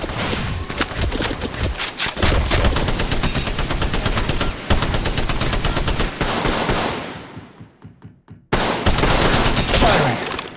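Automatic weapon fire from Apex Legends rattles in long dense bursts, loud and close, then fades out into a short silence before another heavy burst starts.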